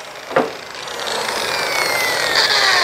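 Rotary sander running 320-grit paper over greased stainless steel on a DeLorean DMC-12 body panel, a steady, loud whirring abrasion that holds continuously throughout after a brief thump near the start.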